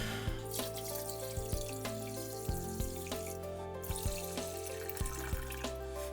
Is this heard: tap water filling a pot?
yes